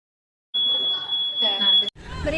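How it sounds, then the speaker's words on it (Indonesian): A homemade flood detection alarm built as a student experiment gives one sustained high-pitched electronic beep lasting over a second, close by, with people chattering around it. "ALARM PENDETEKSI BANJIR"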